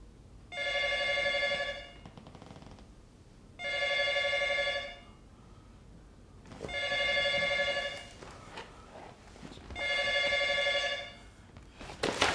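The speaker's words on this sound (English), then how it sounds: "does the phone magically start ringing?" Landline telephone ringing in an office: four evenly spaced electronic rings of about a second and a half each, loud and clear with short quiet gaps and faint background noise.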